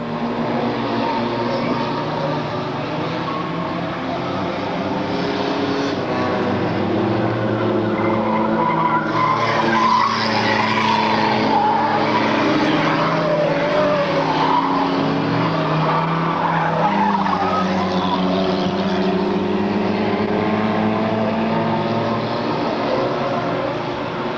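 Race cars roar around the track at a 1997 radio DJ celebrity race, with one car driven by a two-driver team among them. Dense, continuous engine noise and tire squeal fill the whole stretch, with a commentator faintly audible underneath.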